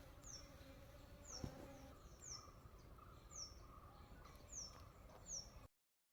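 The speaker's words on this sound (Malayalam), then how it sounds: "തേനീച്ചകൾ തേൻ കുടിക്കുന്ന കണ്ടോ." Honeybees feed on flowering plants in a garden, giving a faint, steady outdoor buzz alongside repeated short bird chirps, with a brief silence near the end.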